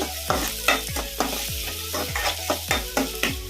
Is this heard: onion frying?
yes